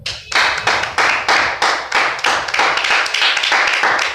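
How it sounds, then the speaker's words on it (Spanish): A church congregation claps in a steady, rhythmic beat, loud and close, with about a dozen even bursts of hand claps in quick succession during a worship service. "démosle un fuerte aplauso al Señor."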